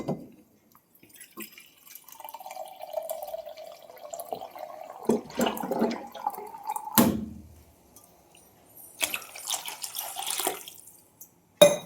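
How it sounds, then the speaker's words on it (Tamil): Water pours into a pot of fish curry in a few separate streams, splashing and gurgling with rising tone as it fills, with quiet gaps between pours. "இந்த டைமில் வந்து உங்களுக்கு குழம்புக்கு தேவையான தண்ணி ஊற்றிக்கலாங்க"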